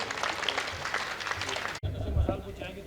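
An audience claps in welcome for a poet at a kavi sammelan, a dense burst of applause lasting under two seconds before an abrupt cut to a voice speaking.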